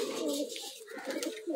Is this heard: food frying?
no